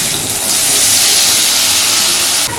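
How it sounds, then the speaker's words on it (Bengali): A spice mixture hits hot oil in a kadai and erupts into a loud, continuous hissing sizzle close by, swelling after a moment and holding steady throughout. "এখন মশলার মিশ্রণটা কড়াইয়ের মধ্যে দিয়ে দিচ্ছি।"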